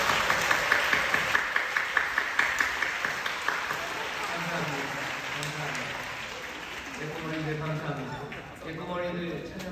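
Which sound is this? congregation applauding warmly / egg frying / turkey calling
congregation applauding warmly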